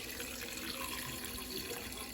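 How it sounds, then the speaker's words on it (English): Hot water pours steadily into a pot of Jamaican oxtail, a continuous broadband rushing stream with no talk over it. "you're gonna go ahead and add some hot water"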